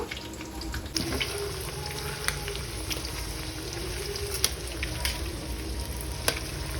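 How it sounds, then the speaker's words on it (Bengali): Shrimp frying in hot oil in a home kitchen, a steady close sizzle that runs throughout with a few sharp pops and crackles rising above it. "তাহলে চিংড়ি মাছটা ভেজে নিই, তোমরা দেখতে থাকো।"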